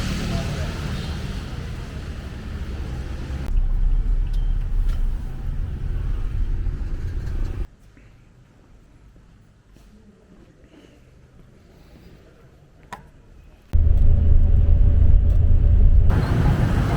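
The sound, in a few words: street traffic of cars and motorbikes in Saigon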